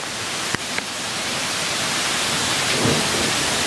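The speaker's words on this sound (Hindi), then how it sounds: "यहाँ पे एक छोटा सा वाटरफॉल भी है" Steady broadband rushing of a small waterfall at Chaiturgarh Fort fills the scene, with a couple of faint knocks early on and no voices.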